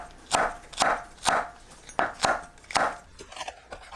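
Radish is chopped with a knife on a cutting board: about six steady, evenly spaced thuds, close and crisp, then a few lighter taps.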